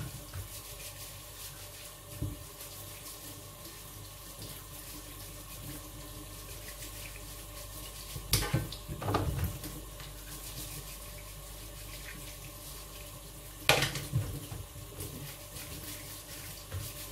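A kitchen tap runs steadily into a sink while fresh ginger is rinsed, a faint even hiss of water broken by a few brief clatters and splashes.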